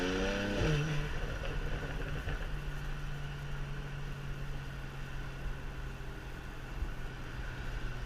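A BMW 335is E92 with a DCT gearbox drives along, its engine a low steady drone heard from inside the cabin at moderate level, with a brief rising rev near the start before settling into an even cruise.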